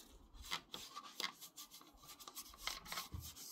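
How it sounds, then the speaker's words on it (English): Cleaner is rubbed by hand over a Saladmaster stainless skillet in quick, rhythmic scrubbing strokes. About seven rasping swipes are heard close and fairly quiet, with no talking. "So you just rub it everywhere, or where you think, you know, it needs to be"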